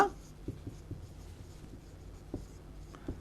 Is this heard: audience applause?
no